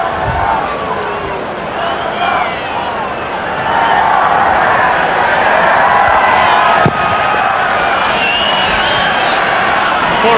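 A packed stadium crowd at a 1994 Canada versus Brazil soccer friendly in Edmonton, a dense, loud roar of cheering and shouting that rises and holds steady throughout.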